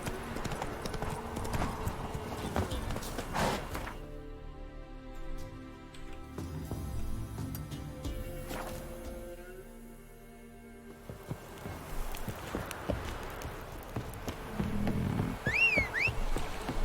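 The horse Roach in The Witcher 3 trots with steady rhythmic hoof clip-clops, moderately quiet, mixed with game ambience and a short gap of softer sound midway.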